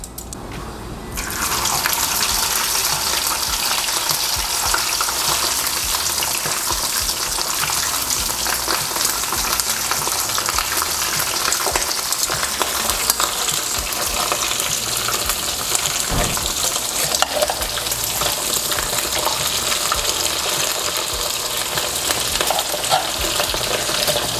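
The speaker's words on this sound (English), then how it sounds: "As you guys can see, it's frying, so that means the oil is nice and hot." Loud, continuous sizzling of beef frying in hot oil, a dense crackling hiss that holds steady throughout.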